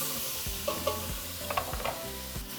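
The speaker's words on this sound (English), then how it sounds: "we're going to add 5 Roma tomatoes. Just chop them. Mix it, give it a couple seconds." Five chopped Roma tomatoes sizzle and fry in a pan for chile verde while a spoon stirs them, with close scraping strokes and bumps over a constant crackling hiss.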